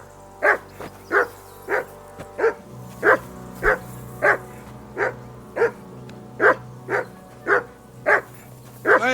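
Repeated sharp barks from a dog in Kingdom Come Deliverance 2 come at a steady pace, roughly one per second, loud and close over a low ambient hum.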